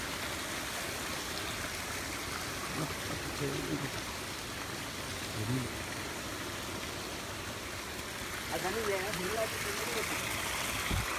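Water of a stream or waterfall at Rishikesh rushes in a steady broadband wash, continuous and moderately loud, with voices speaking faintly over it at times.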